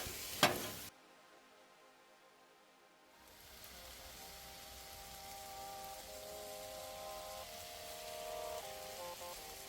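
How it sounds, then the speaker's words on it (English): Vegetables for a cheesesteak sizzle and crackle in a hot pan as they are mixed, a steady frying hiss that starts after a brief loud clatter and a short silence. "we want to add these veggies into the mix, get everything mixed in"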